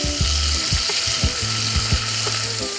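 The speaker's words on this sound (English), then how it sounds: "Some oil in the pan and some butter. In with the asparagus." Asparagus frying in oil and butter in a pan, a loud continuous sizzle and crackle close up with occasional soft clinks and stirring noises underneath.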